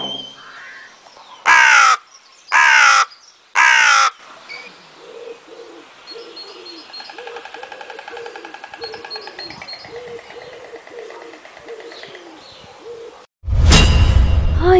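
Three loud, harsh crow caws ring out in a row, close and distinct. Softer cooing and chirping birds carry on behind, and a sharp noise burst comes near the end.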